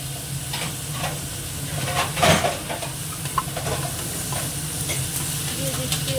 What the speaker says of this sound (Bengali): দিয়ে দিলাম এর মধ্যে কাঁচা লঙ্কা কুচানোগুলো, একটু ভাজা হয়ে যায়।